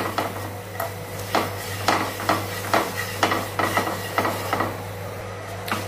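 Flour being stirred and roasted in a pan for homemade cheese garlic bread, a utensil scraping in a steady rhythm of soft strokes over a low constant hum, with no talking.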